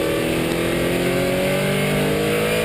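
A Cadillac CTS-V on a race track holds a steady, loud engine drone after dropping into second gear, its harmonic tone rising gradually as the car pulls out of the corner.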